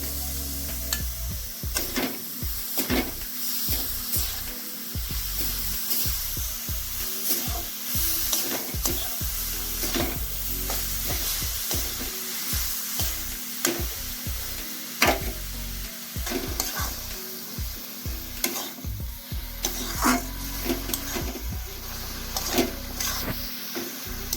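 Coconut filling for dudh gokul pitha fries in a pan with a constant sizzle, while a spoon scrapes and stirs in frequent uneven strokes, close and fairly loud, with no talking.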